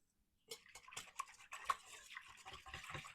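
A whisk stirs honey into a yeast mixture for white bread, giving quick, soft clinking and swishing strokes in a bowl that start after a brief silence and continue steadily up close.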